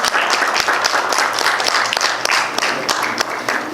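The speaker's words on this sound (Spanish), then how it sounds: "Un fuerte aplauso para nuestro participante." Audience applause at a public-prosecution talk on corruption offenses, steady dense clapping filling the whole stretch at close range with no pause.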